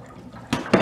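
Water drains from a broken hot water heater in a trailer, splashing and gurgling in two short surges over a low background wash.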